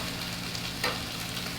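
Shrimp and calamari stir-frying in a hot wok with peppers, a steady close sizzle and hiss running throughout, with one brief louder burst of spatter or stirring midway, no talking.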